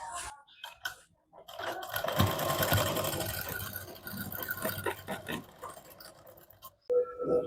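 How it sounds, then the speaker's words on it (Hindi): A sewing machine stitches pleats on a double katori blouse, running in a close, steady mechanical whir with brief pauses and restarts. "मो सिलाई मशीन टिके भलो चललानी"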